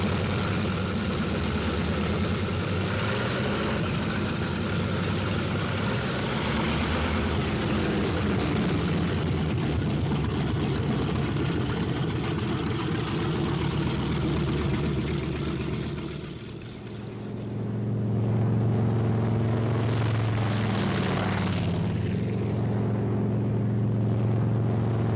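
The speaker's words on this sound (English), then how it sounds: "On the field, planes warm up. It's takeoff time for the Thunderbolts." P-47 Thunderbolt fighter planes warm up their engines on an airfield in 1945, a loud, continuous droning rumble that dips briefly and then returns stronger, with no voices.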